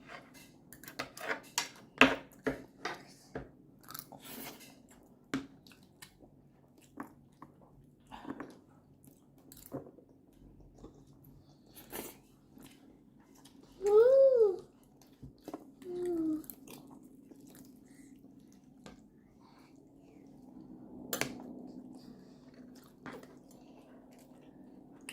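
Someone eats grilled giant mackerel and rice, with soft close chewing and bites in an irregular rhythm, scattered utensil clinks and a brief vocal hum partway through.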